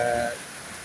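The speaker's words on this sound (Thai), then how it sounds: "ฝนเริ่มหนาเม็ดขึ้นเรื่อยหนาเม็ดขึ้นเรื่อย ตกมาตั้งแต่สามทุ่มแล้วนะครับ" Heavy rain falling steadily at night during a Thai rice-farming season, a dense continuous hiss throughout, with a brief tonal sound at the start that fades out.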